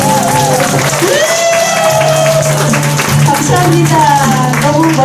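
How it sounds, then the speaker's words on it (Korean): An audience at a humanities academy lecture in a library claps together, a dense, loud burst of applause running throughout, mixed with a tonal musical line and voices. "중간 박수!"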